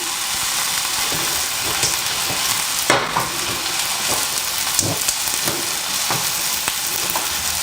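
Potatoes and onions fry in a pan, a steady close sizzle with irregular stirring knocks and scrapes throughout and no voices.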